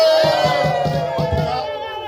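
Crowd at a gathering cheers and shouts together with rhythmic pulses, likely clapping, under a sustained tonal line, loud and continuous throughout.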